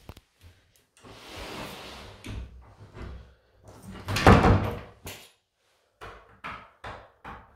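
A bathroom door in a house under final inspection is opened and its stiff lock is worked, giving scattered knocks and rattles, a scraping slide and one louder clunk. No voices are heard.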